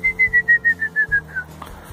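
Whistling aimed at horses being fed bread and carrots: a clear series of about nine short, evenly spaced whistled notes at one pitch, loud and close, fading over the last few before stopping.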